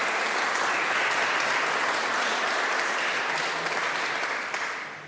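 A seminar audience on environmental justice in Chile gives loud, sustained applause, a dense steady wash of clapping from many hands that holds throughout and tapers slightly at the end, with no voices over it.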